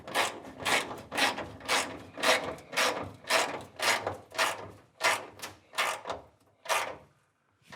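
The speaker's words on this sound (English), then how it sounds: "So let's put the wrench on the other side." A ratchet wrench cranks a bolt on a 1943 Willys MB jeep in rapid, regular bursts of clicking about twice a second, loud and close, before stopping near the end, with no talk.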